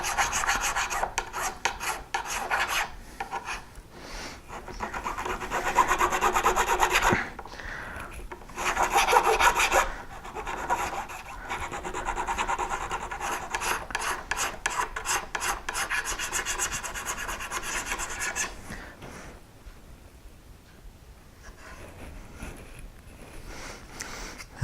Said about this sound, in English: I'm going to try to file this like you would see on a Les Paul, where the binding nubs go over the